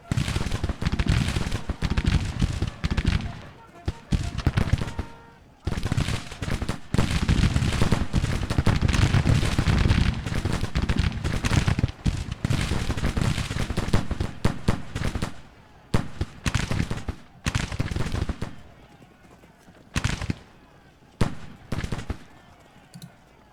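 Musket and rifle fire from returning troops in a Civil War battle in the strategy game Grand Tactician, volleys of cracking shots popping in dense bursts with brief lulls, some near and loud, others farther off.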